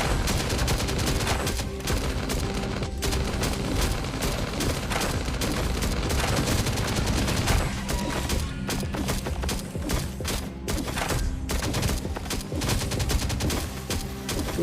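Dense, sustained automatic turret gunfire with rapid bursts and booming thuds, loud and continuous like a heavy firefight, in the game Last Day on Earth: Survival.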